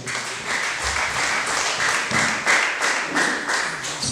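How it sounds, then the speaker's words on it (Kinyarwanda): A church congregation at a wedding ceremony claps together in a steady rhythmic beat, several hands striking in unison with a regular pulse, fairly close and unaccompanied by talk. "Reka tubakomere amashyi."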